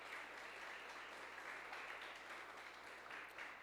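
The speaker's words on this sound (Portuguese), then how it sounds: "Eu acho que você pode aplaudir a Jesus" A congregation applauds during a Portuguese-language church service, a continuous, even wash of many hands clapping, quiet and distant-sounding, with no voice over it.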